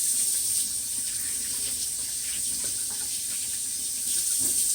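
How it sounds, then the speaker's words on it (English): Hot water runs steadily from a kitchen tap as hands are washed, a continuous bright hissing splash with faint clatter underneath and no talking. "Let's get my hot water and my Clorox going here."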